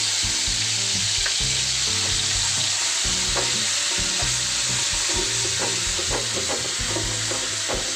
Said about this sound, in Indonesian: Gongso-gongso sampai baunya harum.